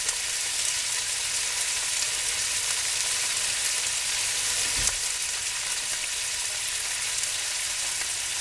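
About one and a half pounds of chuck roast beef browning in a pot, giving a steady close hiss and sizzle of frying meat throughout, with one brief bump partway through and no talking.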